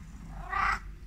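A house cat gives a single short, bright meow in reply, close and fairly loud over a low room hum, with no talking.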